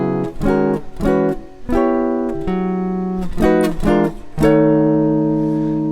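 Electric guitar playing a slow, sustained chordal melody, with plucked bass notes and ringing chords that let each note hang before the next.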